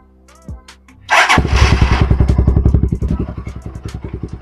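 A motorcycle with an aftermarket Akrapovic or SC-Project exhaust cranks with a thud, catches loudly, then settles into a rapid, throbbing idle with a sharp, uneven exhaust beat, close by.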